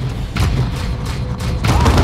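Heavy grenade explosions in Dawn of War 2 boom one after another, deep thuds and rumbling blasts rolling continuously and loudly through the short stretch.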